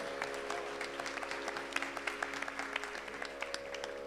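An audience at a stage performance claps for a flute player, fairly faint applause with individual claps audible and a faint steady tone in the background.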